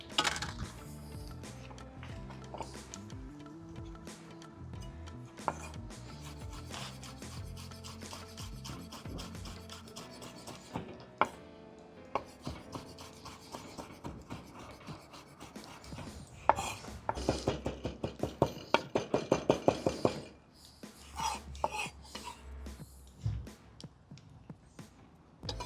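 Fresh oregano being chopped with a knife on a board for chimichurri, rapid rhythmic knife taps that build into a dense burst of quick chops before slowing, close and crisp.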